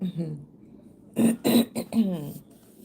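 A few short, harsh throat-clearing bursts in quick succession, close to the microphone, after some quiet murmuring.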